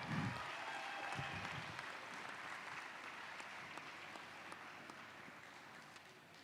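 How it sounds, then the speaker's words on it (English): A gym crowd at a high school boys basketball senior night applauds steadily for the senior cheerleaders and the basketball team. The clapping is dense and sustained, fading slightly over several seconds, with a few low voices near the start. "let's give one more big round of applause for our senior cheer and boys basketball"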